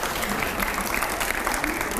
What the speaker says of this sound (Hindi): जोरदार तालियां अगले सवाल से पहले